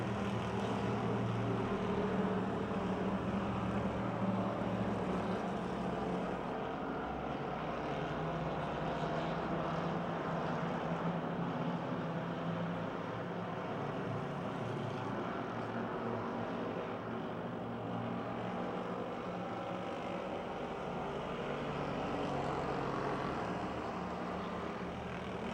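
Race cars circling Pennsylvania Motor Speedway near Pittsburgh, a steady continuous engine drone from the pack that holds at an even level throughout, heard from a distance with no talk.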